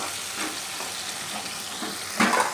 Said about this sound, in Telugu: కట్ చేసి పెట్టుకున్న ఉల్లిపాయలు, పచ్చిమిరపకాయలు దీనిలో వేసేసుకున్నామండి